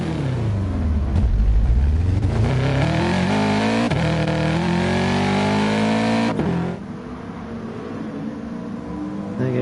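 An Audi A4 BTCC race car in Gran Turismo Sport at Brands Hatch Indy during qualifying: a loud, close engine revs steadily upward through the gears, with rising pitch sweeps and a brief dip between shifts, and no talking.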